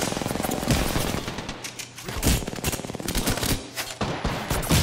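Automatic weapon fire in an Apex Legends match: loud, close bursts of rapid shots that run almost the whole time, briefly thinning in the middle before the firing picks up again.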